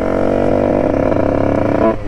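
A Yamaha DT motorcycle with a new engine drones steadily up close, loud and continuous, its pitch shifting slightly as it rides, easing off at the very end.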